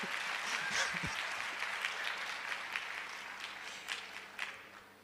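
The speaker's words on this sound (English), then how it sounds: "Clap, please." Audience clapping at a youth summit on Africa, a diffuse sustained patter of many hands at moderate distance, with some voices mixed in.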